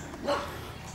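A single short bark from a farm guard dog, close and fairly loud, a quick yelp-like woof over steady outdoor background noise.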